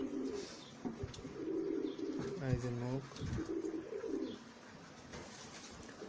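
A young male pigeon for sale, a Budapest, Pankhi, Kaldom, Shashanpuri, Teddy or Musaldom bird, coos in low murmuring bursts with a brief higher trill partway through while someone talks quietly nearby.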